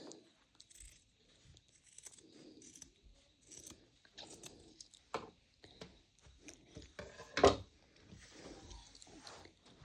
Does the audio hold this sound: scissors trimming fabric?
yes